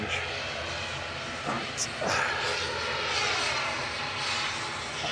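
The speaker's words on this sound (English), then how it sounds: "Noisy prop time, proper loud. Logan Air lining up." A Logan Air ATR 72's twin turboprop engines at an airport as the plane lines up, a loud, steady propeller drone with a rising whine, and a brief spoken word over it.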